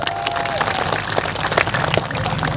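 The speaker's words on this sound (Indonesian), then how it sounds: "Kita kasih tepuk tangan dulu" Audience applause at an outdoor religious lecture held for a village youth organization's anniversary, a dense, steady patter of many hands clapping throughout, fairly loud and continuous, with a brief tonal voice-like sound near the start.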